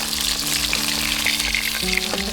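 Oil sizzles and crackles steadily as a rohu fish fries crisp, close up, with a low hum running underneath.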